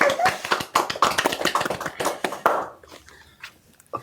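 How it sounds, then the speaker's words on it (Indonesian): A small group claps by hand in a podcast studio, a quick irregular burst of sharp claps that thins out and fades into near silence after about three seconds. "Tepuk tangan"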